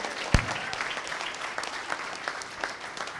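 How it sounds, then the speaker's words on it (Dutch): Warm applause rings out for the D66 team at a municipal election results night, one sharp clap leading into steady, moderately loud clapping from a crowd that carries on throughout. "Een applaus voor het team van D66."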